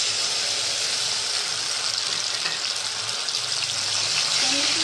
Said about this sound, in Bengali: টমেটোকে দিয়ে ভালো করে তেলের মধ্যে একটু নাড়াচাড়া করে নিচ্ছি